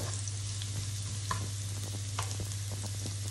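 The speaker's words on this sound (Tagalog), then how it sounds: "Tustahin lang natin yung bawang." Garlic sizzles and fries in a pan, a steady crackling hiss with occasional sharper pops and stirring scrapes, heard up close under a constant low hum.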